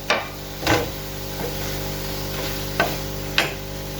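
Chicken sauté sizzling and frying in a pan, with several sharp stirring scrapes of a utensil against the pan over a steady bed of sizzle.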